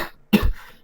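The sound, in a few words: cough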